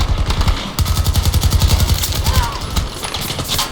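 Rapid automatic gunfire in the online shooter Battlefield 2042 rattles in loud, steady bursts, with a pause and a few scattered shots later on.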